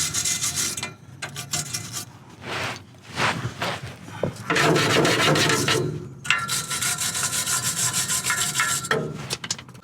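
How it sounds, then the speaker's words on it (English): Wrench work on a car's exhaust bolts under the subframe: repeated rasping, scraping metal bursts of varying length, fairly close and loud, with short pauses between efforts and no talking. "Let's see if we can undo these bolts."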